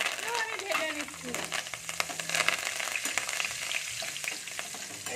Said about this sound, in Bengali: কারি পাতা গুলোকে আমি ভালো করে ভাজবো।